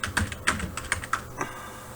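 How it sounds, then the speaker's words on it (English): Fingers type on a computer keyboard, a quick run of about eight close, crisp key clicks in an uneven rhythm over two seconds, alone without talk. "Let's type in Versluis."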